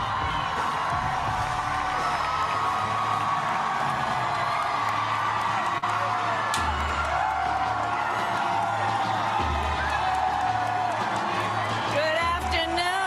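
A large crowd at a Kamala Harris press conference cheers continuously, with whoops and shouts rising over a sustained roar and occasional voices standing out, loud and close throughout.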